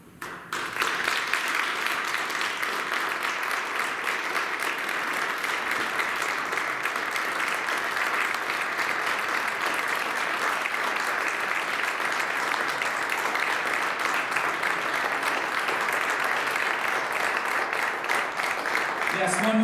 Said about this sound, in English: one more big round of applause for Rick and his family